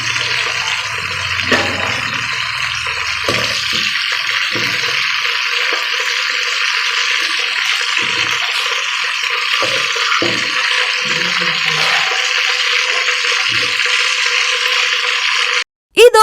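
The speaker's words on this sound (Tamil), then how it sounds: "எண்ணெயில் காளான் நல்லா பொரிஞ்சிடுச்சு" Mushrooms fry in oil in a pan with a dense, constant loud hiss and bubbling roar lasting almost the whole time, with faint clinks beneath it and a sudden cut near the end.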